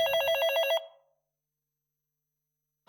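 A red telephone ringing with a rapid electronic trill, one short burst of bell-like ringing that stops abruptly after under a second, followed by silence.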